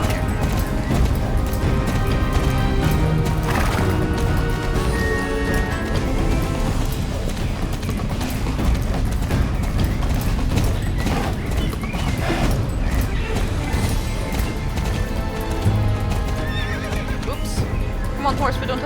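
Galloping horse hooves in the Star Stable video game, with whinnies, a steady pounding rhythm close and loud, layered over continuous game music and effects; a voice talks over parts of it.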